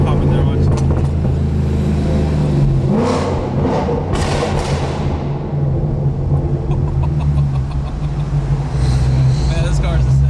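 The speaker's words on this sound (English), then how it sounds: "Oh man, those pops are so nasty." A Ford Mustang driving through a tunnel rumbles with a deep, booming exhaust, scattered crackling pops and bursts echoing off the walls, loud and close, with someone talking over it.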